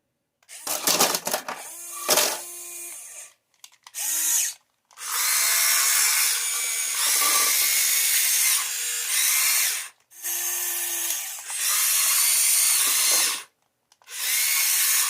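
An RC Huina 1550 excavator fitted with a larger Huina 580 motor whines loudly and close in bursts of several seconds, separated by brief pauses.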